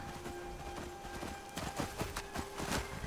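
Horse hooves clip-clop in the Skyrim video game, a steady run of close, sharp hoof beats over a dense background ambience, growing slightly louder toward the end.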